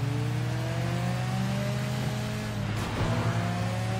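A fast van speeds past in the open-world game Sleeping Dogs, its engine droning with rising and falling pitch as it rushes by at a steady, fairly close level.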